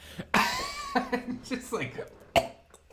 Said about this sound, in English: I cough uncontrollably and pretend I'm choking on my own spit